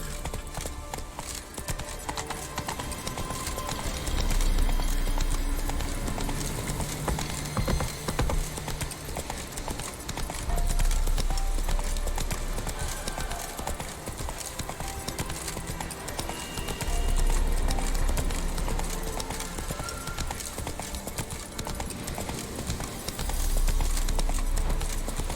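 Horse hooves clip-clop steadily in the video game The Witcher 3: Wild Hunt, a continuous rhythmic trot set against dense game ambience and music for the whole stretch.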